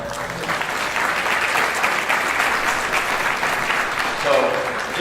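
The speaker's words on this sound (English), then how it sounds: "you guys deserve a round of applause" Audience applause at the 2018 Section IX Hall of Fame induction ceremony, a loud, dense, steady round of clapping filling the hall, with a voice briefly audible near the end.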